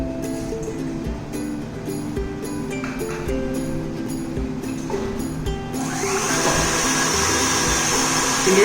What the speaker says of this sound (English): So you can see that the eggs are frothing.